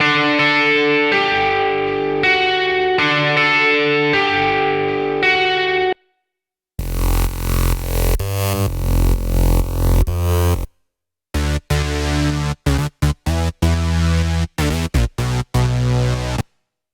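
Three electronic pop drum loops from an Alesis Strike Multipad in turn, punchy beats with synth layers, each cut off abruptly before the next begins after a short silence.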